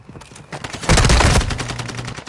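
Video game gunfire erupts in a loud, close burst of rapid shots lasting about half a second, followed by scattered fainter shots and game noise.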